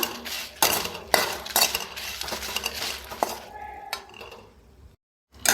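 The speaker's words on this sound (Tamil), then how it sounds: "அதையும் நம்ம வறுத்துக்கலாம் இருபத்தஞ்சி கிராம் வரமிளகா" Dry red chillies roasted and stirred in a pan, a run of close metallic scrapes and clinks from a utensil against the pan, easing off before a brief silence near the end.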